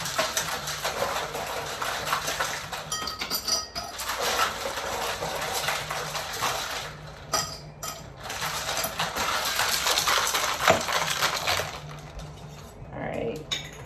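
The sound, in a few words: shaking a cocktail shaker with ice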